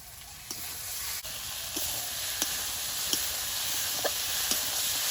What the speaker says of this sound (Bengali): মশলাটা কষানো হচ্ছে ওর মধ্যে দিয়ে দেবো একটু গোটা গরম মশলা